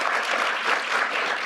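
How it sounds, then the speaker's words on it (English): Steady, even clapping from an audience at an education reform forum, a short continuous stretch of moderate loudness. "Can we give Jody a huge round of applause?"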